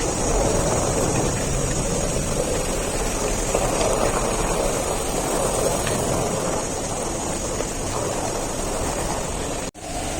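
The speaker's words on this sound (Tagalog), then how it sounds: "Yan, parating ng tren." An MTR train pulls into Tai Po Market station in Hong Kong, a steady, loud rushing roar that fills the platform without letup until a brief cut near the end.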